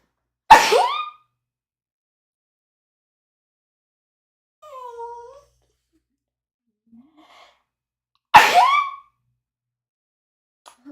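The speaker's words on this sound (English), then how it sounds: "gonna sneeze." Two sharp, close sneezes break an otherwise quiet stretch, separated by a brief soft vocal sound in between.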